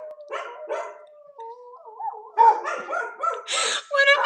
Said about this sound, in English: One of my dogs howls like a wolf